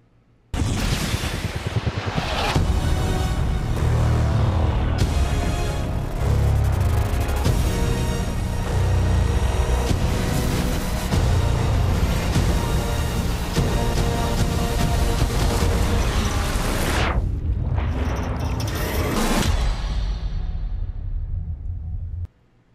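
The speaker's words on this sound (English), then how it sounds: "Check out this short trailer of the movie." An Iron Man movie trailer soundtrack, loud and dense throughout, with heavy booming low-end hits and swelling cinematic layers, a brief drop near the end before one final surge, then silence.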